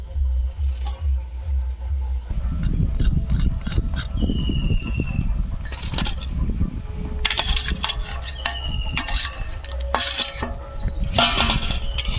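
Whole cumin and raw banana curry go into a pan and are stirred, giving metal scraping and clinking of spoon against cookware over a low hum, close and uneven, with brief sizzling.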